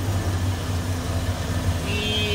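A 1988 Ford F-150 XLT Lariat under restoration, its engine idling with a steady low rumble and hum, close and fairly loud, with no talking.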